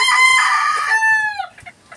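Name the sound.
pet chickens clucking and crowing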